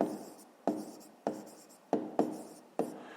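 A pen writes by hand on paper while math is worked out, with a handful of separate scratchy strokes, each starting sharp and trailing off, close and quiet.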